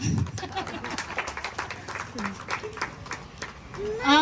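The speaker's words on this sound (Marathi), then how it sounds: "टाळ्या वाजवा" A crowd at a community programme applauds, a moderate, scattered clapping that runs throughout beneath a speaker's voice.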